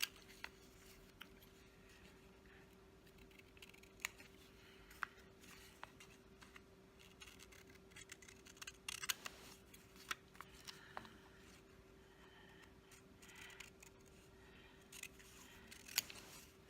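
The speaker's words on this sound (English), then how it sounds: "So what I'm going to do here is cut the white off." Scissors snipping through a sheet of printed paper verses for a mixed-media vintage card, a series of faint, crisp, irregular cuts with small pauses, close by in a quiet room with a low steady hum underneath.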